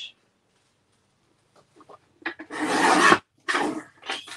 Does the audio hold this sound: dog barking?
no